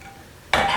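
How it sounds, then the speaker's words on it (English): Asparagus hits a pan of hot canola oil, a sudden bright sizzle bursting in after a quiet moment and holding to the end. "I want to add some canola oil to the bottom of the pan. And I want to add the asparagus"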